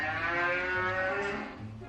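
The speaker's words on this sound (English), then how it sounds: "What was that? Cow." A cow moos in a long, loud, sustained call, played as a sound effect in a guessing game, with no talk over it.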